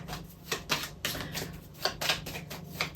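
Tarot cards being shuffled for a reading, a dry run of soft papery riffles and slaps in uneven bursts, close and fairly quiet with no talking.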